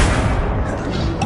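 The Confringo fire spell from the video game Hogwarts Legacy explodes in a loud, booming blast that stays dense and roaring for just over a second.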